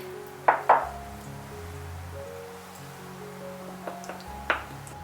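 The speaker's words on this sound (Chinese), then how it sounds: "再加入3勺生抽调开" Sha cha sauce being mixed with soy sauce in a bowl, a few sharp clinks of a spoon against the bowl with soft scraping between, close and quiet with no talking.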